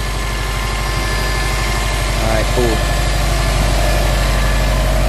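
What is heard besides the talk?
car engine idling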